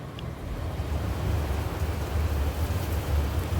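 Steady monsoon rain falling outdoors, a dense continuous wash of pattering with a low rumble underneath, even in loudness throughout and with no voices.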